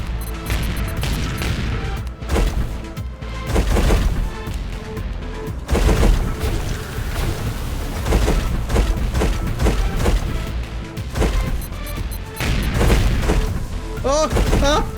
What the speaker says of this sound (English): No more bombs, please!